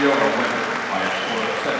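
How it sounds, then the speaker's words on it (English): Crowd at Carver-Hawkeye Arena gives a wrestler a standing ovation after a Big Ten match, steady dense cheering and applause filling the arena throughout, with an announcer talking over it. "Wow, a standing ovation inside Carver Hawkeye Arena for Gable Steveson."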